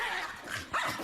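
A dog gives one close yelping bark near the end, faint and over a background murmur of voices and room noise.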